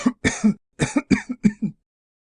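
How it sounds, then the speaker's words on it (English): A short burst of harsh, hacking coughs, about seven rapid spasms in quick succession, close and loud, then silence. "How long have you had that cough?"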